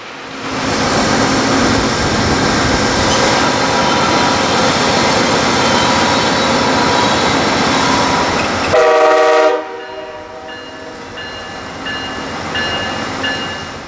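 DART and Trinity Railway Express commuter trains at Dallas Union Station: a loud, steady roar of a passing train, then a short horn blast near the nine-second mark, followed by quieter rumbling as it moves on.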